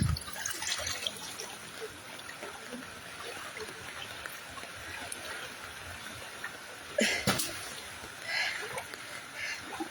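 Floodwater flows and trickles steadily in the distance, a low continuous wash with occasional splashes, while a voice exclaims at times over it.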